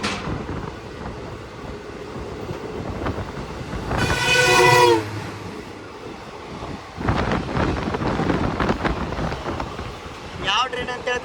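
Another train passes at a crossing on the Hospete–Mumbai route, heard from inside a chair car: a loud horn blast midway, then rumbling, clattering wheels and wind, with a voice talking over parts.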